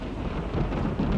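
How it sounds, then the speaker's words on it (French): Low rumbling thunder in a storm over the village of Montbolo, a steady dull roll with faint rain-like hiss above it, continuous for the whole short stretch with no voices. "Écoutez le tonnerre, là."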